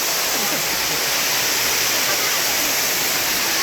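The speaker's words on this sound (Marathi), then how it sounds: "असं झुळझुळ पाणी वाहत आहे आणि ह्या आनंदासाठी आपल्याला इकडे यायचं असतं वॉटरफॉलला" The Jummapatti waterfall near Neral, in monsoon season, gives a loud, steady rush of falling and flowing water, close by and unbroken throughout.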